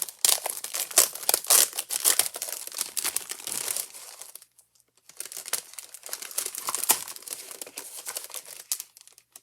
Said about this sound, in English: And we have a vellum layering paper.